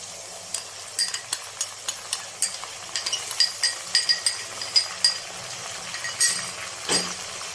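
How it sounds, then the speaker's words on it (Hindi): Garlic and onions frying in ghee for mash daal, a light sizzle under a quick run of metal spoon scrapes and clinks against the pot, close and rhythmic, with no one speaking. "लहसुन को भी तकरीबन 1 मिनट तक हम भून लेते हैं"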